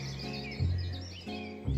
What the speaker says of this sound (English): the forest was alive with the sounds of birds singing to each other